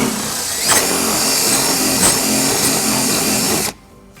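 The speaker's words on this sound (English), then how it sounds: "we'll go ahead and drill and repeat on the second hole" A power drill whines steadily and loudly for several seconds, boring into a 2021-2026 Nissan Rogue bumper with slight changes in pitch, then cuts off abruptly.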